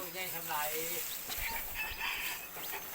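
Chickens on a rice farm cluck and call, with a drawn-out crow-like cry near the start and scattered clucks after, heard close under people talking.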